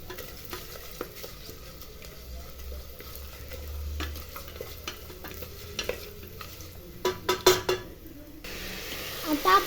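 A spoon stirs turmeric through a rice mixture in a pan for lemon rice, producing soft scraping and gentle sizzle, ending with a few louder clanks of the utensil against the pan, with no speech.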